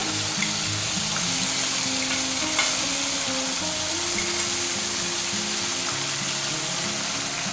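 Ground cumin and coriander pastes, with cloves and cardamom, fry for a banana flower curry. A dense, even sizzle runs throughout, with light stirring and a steady tonal hum in the background.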